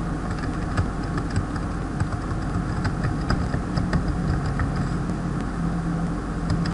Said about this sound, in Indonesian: Di bawah kita akan mengetik console.writeLine.